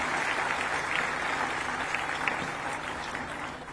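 Steady applause from a college audience welcoming the Vice President at Maharani Mahavidyalaya, a continuous even wash of clapping at moderate distance.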